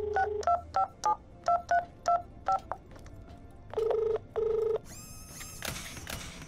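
Telephone keypad tones in the Borderlands: The Pre-Sequel video game, a quick run of about a dozen short electronic beeps in an even rhythm, then two longer tones and a ringing signal, clear and close with no talk.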